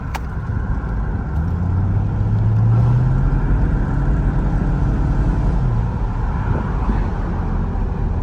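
A 2003 Mercedes-Benz SL500 R230 with its 5.0-litre M113 V8 drives through traffic, a loud, steady low engine drone with a brief rise in pitch as it pulls, plus road noise, with no talking.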